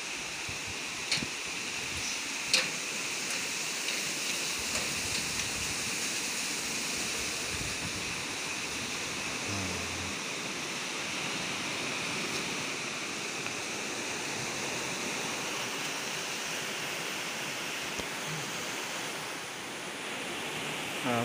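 River water rushes over the old Dutch colonial Cianten dam from 1926, a steady roaring hiss like heavy surf that holds throughout, with a few faint knocks and no talking.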